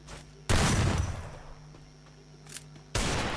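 Gunfire from the Free Fire video game, scoring headshots: two loud bursts of shots a couple of seconds apart, with a faint sharp crack between them, over a low steady game hum.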